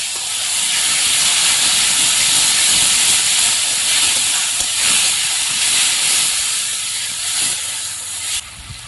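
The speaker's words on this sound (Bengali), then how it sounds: "কড়াইটা খুব তেতে গেছে, একটু জল দিচ্ছি।" Water poured into a very hot kadai while cooking a village-style jackfruit kofta curry, giving a loud, close, sustained steam hiss that fades slightly toward the end.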